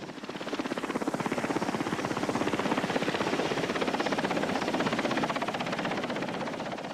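A military evacuation helicopter flies close by during the Vietnam War, its rotor beating in a fast, steady chop with a turbine whine, loud and sustained throughout with no talk.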